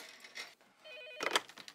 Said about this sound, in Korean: 병원으로 계속해서 걸려오는 장난 전화.